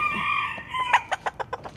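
A rooster crows nearby in a long, strained call, followed by a run of short clucks trailing off.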